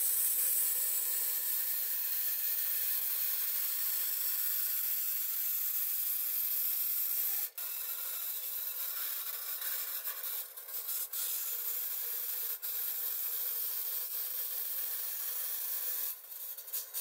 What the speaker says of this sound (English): We're gonna cut off 1 3/16 all the way across.